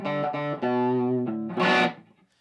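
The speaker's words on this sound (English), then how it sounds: "you can get a whole lot of difference in the way that this thing will break up just from the guitar" Electric guitar plugged straight into an amp with the volume knob fully up, giving overdriven breakup: a few loud, close chords and notes ringing with gritty distortion and a bright, noisy final strum that quickly fades.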